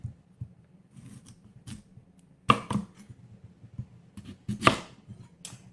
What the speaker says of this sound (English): I'm going to cut them in half